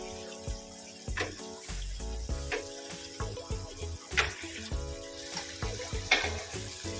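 Onion sizzles gently in a cooking pot as a vegetable sauce for anchovy fish balls begins. Soft frying crackle carries faint clinks and stirring scrapes, quiet and close, over a low steady background tone.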